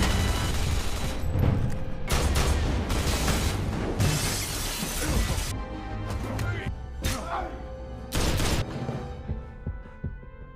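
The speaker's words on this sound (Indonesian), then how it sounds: "Sesampainya di ruangan Melankov, Brian langsung disambut oleh Melankov yang menembakinya dengan membabi buta" Wild gunfire in an action film comes as loud, dense bursts of shots with shattering impacts and booms, heavy at first and then breaking into sporadic blasts. A narrator speaks throughout.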